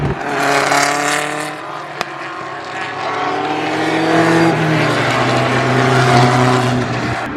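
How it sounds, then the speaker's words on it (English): Historic F2 race cars roar past on the Oulton Park circuit, a loud, close engine note that rises and falls as several cars sweep by in a continuous stream. "Next up are the historic F2 cars."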